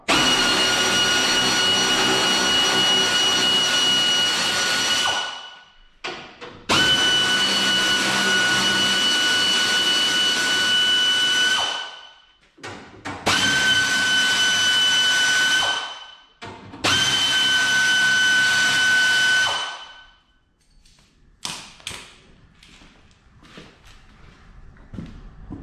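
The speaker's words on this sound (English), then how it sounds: "I'm using the air ratchet" Loud air ratchet whirring in several long bursts, each lasting a few seconds, separated by brief pauses and rattles, close by, tightening 3/8 bolts while installing a truck bumper.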